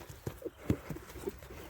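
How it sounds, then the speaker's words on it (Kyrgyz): A horse's hooves clip-clop on the ground as it turns left and right, a few uneven, close-up hoof strikes in a short burst with no talking. "Бойка кайманатындагы бул аттын мынакей поворотторун көрүңүздөр."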